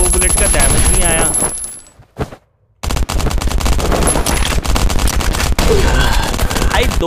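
Rapid bursts of gunfire from the mobile survival game Last Island of Survival, including shotgun shots, loud and close with a brief silent gap near the middle, while someone talks excitedly over the action.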